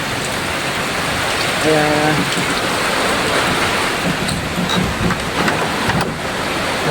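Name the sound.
typhoon Pepito heavy rain and wind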